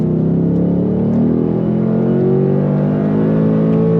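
A 2024 Ford Mustang GT Performance Pack accelerates hard on throttle, its engine note loud, close and steady as a rich, rising drone with layered harmonics held for the full few seconds.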